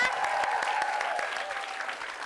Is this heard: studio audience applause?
yes